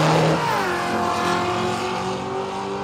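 A Holden Torana drag car roars down the strip at Willowbank Raceway in Australia, its loud engine note climbing steadily in pitch as it accelerates hard, with no voices over it.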